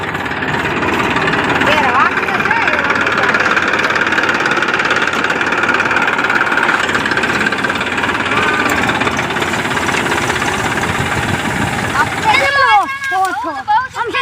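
A tractor engine running in a farm setting, a loud, continuous knocking diesel idle with a rough vibrating chug, ending with a sudden clattering burst of sound; people talk over it.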